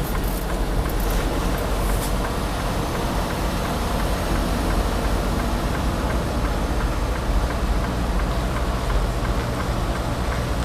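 A semi-truck tractor idles while waiting at a trailer pickup in Milan, Missouri, a steady low diesel rumble that stays even and unbroken throughout, with no voices.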